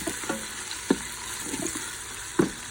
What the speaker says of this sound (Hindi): प्याज फ्राई होना शुरू हो गए माशाल्लाह बड़े अच्छे